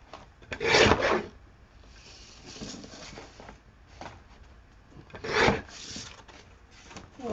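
Art journal paper being trimmed: rough rasping strokes come in a few loud, close bursts, with quieter scratchy rubbing between them and no talking.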